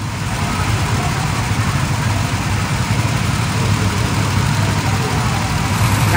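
Small go-kart engine running steadily at a constant drone, loud and close throughout with no clear revving changes.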